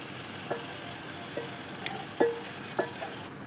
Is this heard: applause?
no